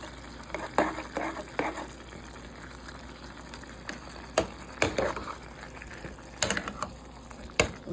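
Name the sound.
biryani rice and yogurt being fried and stirred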